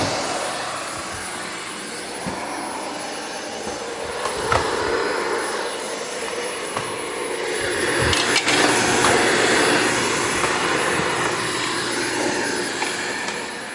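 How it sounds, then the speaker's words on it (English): A loud, continuous whine of a Shark Vertex cordless vacuum cleaner running close by on hard floor, swelling and easing as it moves, with occasional bumps and clicks. "the reason the vacuum's so loud is because even when it's on hard floor"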